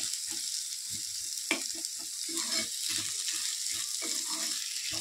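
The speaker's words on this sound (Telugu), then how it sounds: "చిన్నులపాయలు పొట్టు తీసేసి ఒక 2 ఆనియన్స్ అనమాట వేసేసి ఫ్రై చేసేసుకోవడమే" Peeled onions frying in a pan for a Nellore-style korameenu fish curry, a soft steady sizzle with light stirring scrapes and clinks, close up, no voices.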